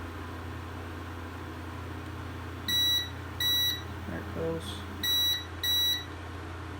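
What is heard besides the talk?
Elegoo 3D printer beeping during build plate leveling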